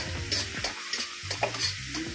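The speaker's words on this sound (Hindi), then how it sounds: "खोआ को डालते हुए थोड़ा सा चलाऊंगी।" Scraping and stirring of khoa milk solids with almonds and melon seeds in a pan, several short strokes with a soft sizzle, close and quiet with no talking.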